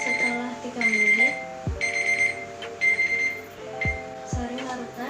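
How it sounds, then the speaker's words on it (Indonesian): A kitchen timer rings after three minutes during a school chemistry lab on colloids, a loud electronic beeping alarm in repeated bursts with steady tones, and faint background sound under it. "Itu menggunakan timer."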